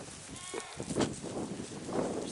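Nigerian Dwarf goats bleating on a farm, a few wavering calls at moderate distance, with rustling outdoor background and no talk.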